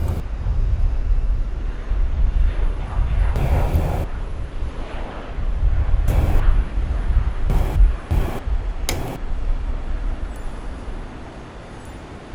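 A jet airliner taxis in Microsoft Flight Simulator 2020, its engines giving a low, steady rumble that swells and eases. Short, sharp higher-pitched bursts cut in at intervals.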